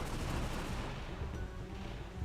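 Gunshots in Tomb Raider Remastered III ring out quietly and steadily, a muffled, continuous clatter of shots at low volume with no talking over it.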